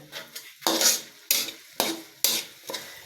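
Bottle gourd stirred in very hot oil gives repeated scraping strokes of a spatula against the pan, about five sharp bursts each trailing into sizzle, close and distinct with no voices.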